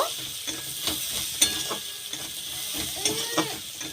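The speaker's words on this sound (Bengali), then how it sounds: "হলুদ গুঁড়ো, লঙ্কার গুঁড়ো। ভালো করে এটা ভেজে নেব।" Onion, turmeric powder and chilli powder fry in a pan with a steady close sizzle, broken by repeated scraping stirs of a spoon against the pan, with no talking.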